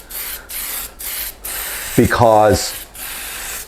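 Several short hissing bursts of an aerosol can spraying primer indoors on an RX7 car part, each about half a second, separated by brief pauses, with a spoken word in the middle.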